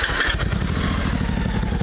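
A motorcycle engine runs steadily at close range, its deep rhythmic pulse even and unbroken throughout, with no voices over it, on a roadside stop in France.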